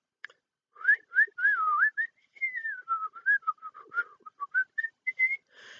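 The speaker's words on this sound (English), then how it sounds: "I learnt to whistle, and I learnt to whistle like that, just like that." A lone person whistles a wandering tune up close, the clear tone sliding between pitches in short phrases and quick chirpy notes, with brief pauses between bursts and no talking.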